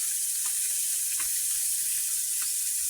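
Potato and tomatoes frying in oil in a pan, giving a steady, bright sizzle with faint crackles and small pops, close and continuous with no talk.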